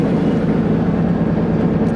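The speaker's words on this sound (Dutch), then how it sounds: "Daar gaan we met de boot." A tour boat reversing away from a quay at a lock construction site in Zeeland gives a steady, loud low engine rumble with water churn, continuous throughout, with faint voices nearby.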